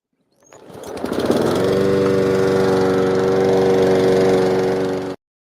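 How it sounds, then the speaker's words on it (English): A lawnmower engine starts up and runs steadily at a constant loud drone for several seconds, then cuts off abruptly, with no voices present. "it was indeed a lawnmower"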